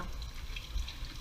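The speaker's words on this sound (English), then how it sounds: "So you're going to run it under the water," Tap water running into a sink over a sheet of sandpaper being wetted down, a steady close hiss and splash throughout.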